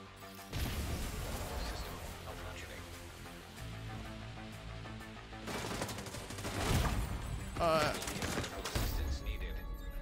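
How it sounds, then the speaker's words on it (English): Enemy gunfire rakes through walls in The Division 2, with sharp bursts and crashing impacts that grow louder in the second half, and a voice speaking briefly. "They literally just shoot through fucking walls, dude."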